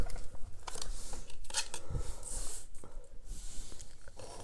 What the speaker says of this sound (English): So we're going to put down the Lenormand cards.